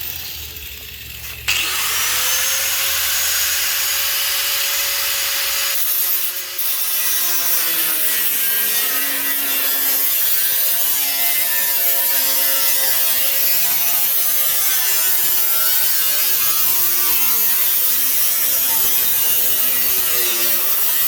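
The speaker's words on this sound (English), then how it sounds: "It's going to be the old cutoff wheel." Cutoff wheel grinding through metal while building a powder coat oven in a workshop; a continuous loud, whining abrasive shriek with shifting pitch runs nearly the whole time after a brief start-up.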